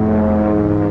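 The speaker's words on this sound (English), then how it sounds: "This small turboprop aircraft is slower, but more maneuverable than jets, faster and more versatile than helicopters." An OV-10 Bronco turboprop aircraft drones loudly and steadily, a close, sustained propeller hum with strong tonal harmonics and no voices.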